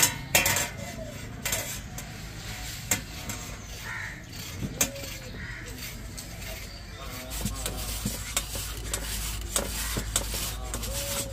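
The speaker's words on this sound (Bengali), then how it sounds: "আমি প্রথমে আলু আর ডিমটা গ্রেট করে নেব।" Boiled potato and egg scraped against a metal kitchen grater, soft rasping strokes with clinks of metal and a plate, close and fairly quiet, no talking.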